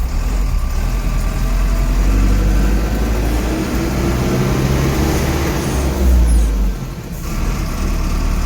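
A tipper truck's diesel engine runs steadily close by, a loud continuous low rumble that dips briefly near the end, with no talking over it.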